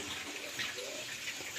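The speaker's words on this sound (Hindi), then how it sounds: "देखिए बाबू के लिए हम कर रहे हैं चिप्स फ्राई" Chips fried in hot oil for a child give a steady, dense hiss and sizzle with faint crackles, continuous and close throughout without talk.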